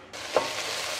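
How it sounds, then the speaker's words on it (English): Garlic and ginger frying in a pan, a steady close sizzle that starts abruptly and holds, with a brief stirring scrape near the start. "I am now going to start frying this off in the pan."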